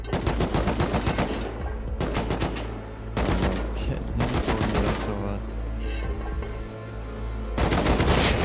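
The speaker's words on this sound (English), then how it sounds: "No, he's shooting me." Gunfire in the online survival game Rust during a raid: continuous loud bursts of automatic and rapid shots, nearly unbroken across the span with brief pauses, while players talk faintly underneath.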